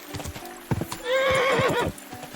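A horse in Kingdom Come Deliverance 2 clops its hooves in a few quick steps, then gives a loud, close whinny lasting nearly a second before the hoofbeats continue.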